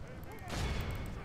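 Video game battle gunfire crackles as a short burst of overlapping shots, with one louder volley partway through, beneath a speaking voice.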